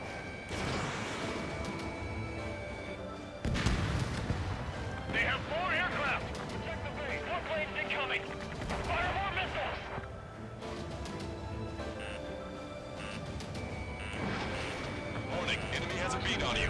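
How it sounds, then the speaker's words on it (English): Heavy bombing explosions in the Ace Combat 7 video game, with an Su-37 in flight, hit as intermittent crashing booms over jet and battle noise, mixed under frequent radio chatter. "They're bombing us."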